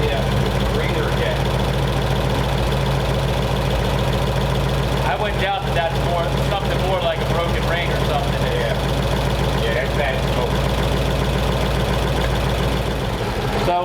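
A Ford Flathead engine idles steadily on a run stand, a loud continuous low rumble with a regular mechanical beat throughout, and people talk briefly over it in the middle.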